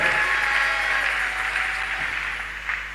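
A church congregation applauds during a Sunday service, steady dense clapping heard close and fairly loud throughout, slowly tapering toward the end.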